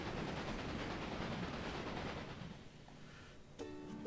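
Steady rumbling rail noise from trains running in the Railway Empire video game, on an Australian line, a broad continuous roar that eases slightly before a brief bright metallic ring near the end, with no voices.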